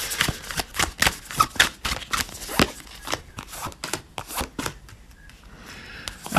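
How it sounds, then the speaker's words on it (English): Tarot cards are shuffled by hand in a rapid run of crisp, close riffling snaps and flicks, with no talking over them. "let's shuffle these up and then pull 3 piles."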